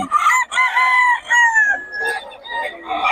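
A rooster crows loudly and close by in a Bocaue chicken yard, a single drawn-out cock-a-doodle-doo with clucking around it.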